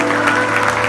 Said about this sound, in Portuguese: Então aplauda ao Senhor